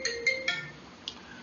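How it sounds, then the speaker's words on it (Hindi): Phone ringtone from an incoming call, a short bright electronic melody of a few quick chiming notes, fairly faint and heard alone. "ये फोन आ गया था"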